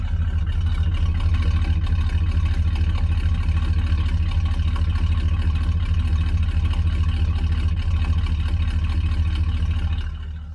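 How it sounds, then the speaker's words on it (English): Carbureted big block Chevy V8 idles in a 1983 Mallard motorhome, a steady low rumbling thump with an even rhythmic pulse, close and continuous for about ten seconds before tapering off at the end. "That's a big block Chevy thump in there"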